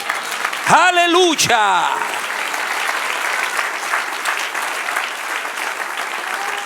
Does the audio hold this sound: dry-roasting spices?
no